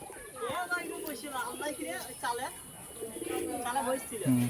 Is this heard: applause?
no